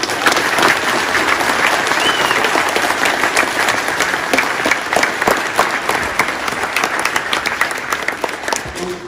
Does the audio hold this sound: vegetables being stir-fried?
no